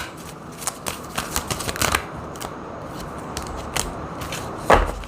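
Tarot cards are shuffled and drawn by hand, giving a run of quick riffling and flicking card sounds up close, followed by a sharper slap near the end.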